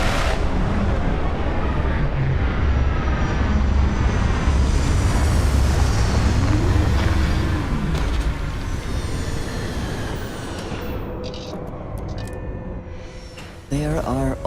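A spaceship touching down in the Starfield video game, with a loud, steady roar of engines and rumbling thrust for most of the landing. It eases into quieter hums and ends with a few clicks, while a character speaks briefly.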